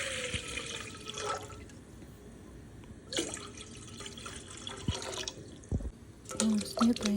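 Water poured into a cooking pot, a splashing, rushing stream in a couple of bursts, close by and fairly loud.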